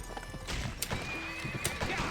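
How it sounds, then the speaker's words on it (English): A horse in the 2005 western video game GUN whinnies while its hooves clip-clop steadily nearby, loud and clear with no talk over it. "There's just a horse right here."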